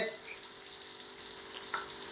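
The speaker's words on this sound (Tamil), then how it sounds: "மீனை முழுசாக வச்சு பொரிக்கிறோம்" Oil crackles and sizzles steadily as a whole fish fries in a pan, a continuous hissing texture with a few small pops.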